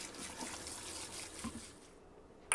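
Fertilized water pours from a container onto potted plants, a soft, faint trickle and splash that gently pulses before tapering off.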